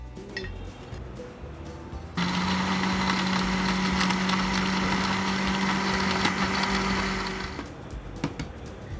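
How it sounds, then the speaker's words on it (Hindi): A blender grinds a tamarind chutney mixture with crushed chillies and cumin, starting abruptly as a loud steady whirring motor hum, running evenly for about five seconds, then cutting off. "अब इसको हम ब्लेंडर में पीस लेते हैं ताकि जो थोड़ी हमारी कुटी हुई मिर्चें या ज़ीरे में थोड़ा बहुत दाने हैं तो वो बारीक पीस जाएंगे।"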